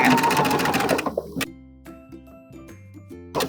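A sewing machine runs a fast zigzag stitch through picot elastic on a bralette, a loud rapid mechanical chatter that stops after about a second, followed by a few soft clicks and low hums as it pauses.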